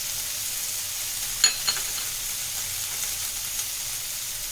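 Ginger and garlic sizzle steadily in hot oil in a pan for semolina upma, a continuous fine hiss with a couple of brief scraping clicks partway through.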